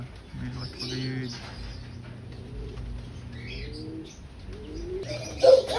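Pigeons coo softly around a loft as a homing pigeon returns from a 60 km training flight, with people talking quietly over the cooing and a brief flutter near the end.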